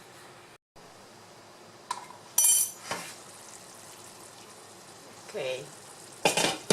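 Sofrito and tomato stew in a pot over a steady sizzle as a utensil stirs, giving intermittent scrapes and clanks against the pot. A brief spoken word comes near the start.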